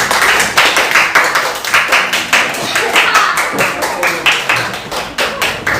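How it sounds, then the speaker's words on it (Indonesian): A classroom group claps for a presenting student group, with brisk, dense hand clapping that stays loud and steady throughout. "tepuk tangan untuk mereka"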